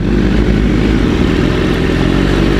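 Superbike engines rumble loud and close while the motorcycles ride a desert road near Rungpur, a low, thick drone with slight rhythmic pulsing and a little rattle, no voices.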